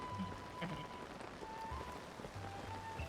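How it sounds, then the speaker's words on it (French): Steady rain falling in the video game The Legend of Zelda: Tears of the Kingdom, a continuous hiss of drops pattering on surfaces at moderate level, with faint low musical tones underneath and no talking. "Il pleut, c'est moche."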